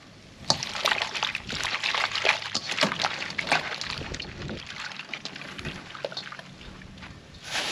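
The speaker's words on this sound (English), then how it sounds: "so I'm just gonna rinse them too" Crabs being rinsed outdoors for a spicy seafood boil, with steady water sloshing and splashing and repeated sharp handling clatters throughout, close and fairly loud, with no talk.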